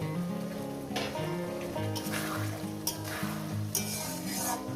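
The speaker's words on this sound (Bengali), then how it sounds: "মশলাটাকে দু তিন মিনিট ধরে কষিয়ে নেব" A spice paste stir-fried in a pan for a spinach and small rohu fish curry gives a steady sizzle, with periodic scraping strokes of a spoon and soft clinks against the pan, close and continuous.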